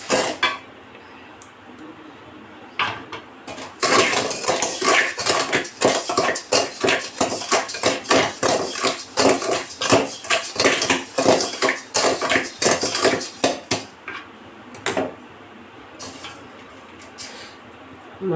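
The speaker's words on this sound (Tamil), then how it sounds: "மண் கொஞ்சம் சூடுன்னு அடுத்து கடலை போட்டு வறுத்துக்கிடணும்" Groundnuts roasting in hot sand, stirred with a metal utensil in a fast, rhythmic scraping and rattling that starts after a quieter opening, runs steadily and close, then eases off near the end; no speech.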